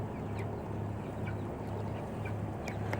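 Chickens on a farm, egg layers and meat birds, cluck and chirp faintly at a distance, with short scattered calls over a steady low hum of background noise, no voices.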